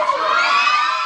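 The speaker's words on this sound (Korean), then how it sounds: "갑작스런 함성에 촬영이 중단됐다" Excited fans of the K-pop group U-KISS erupt in sudden loud cheering and high-pitched shouting, a dense, sustained crowd roar throughout with no talk over it.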